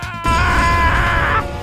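A man screams in a long, loud, strained sustained cry lasting over a second, close and harsh, with no talk around it.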